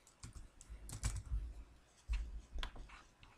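Fingers type on a computer keyboard while text is entered into an Android app's text field: two quick clusters of close, crisp keystroke clicks separated by a short pause, with no voice.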